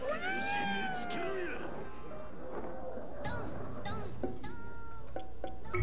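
Cats meow repeatedly in a video game, several drawn-out, wavering cries over background game sound, with a voice talking faintly underneath.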